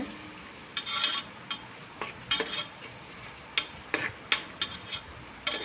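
Salted onions sauté in a pan for mutton biryani, a continuous close sizzle punctuated by repeated scraping stirs and knocks of a spatula against the pan, with no talking.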